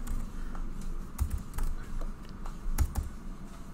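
Quiet computer keyboard typing, a steady run of soft close keystrokes over a faint low background hum, without speech.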